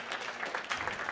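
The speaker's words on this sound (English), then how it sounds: "give him a round of applause, the guy who got us in the studio" Audience applause in a jazz club at a live concert, a steady wash of clapping with no gaps, fairly quiet and heard alone.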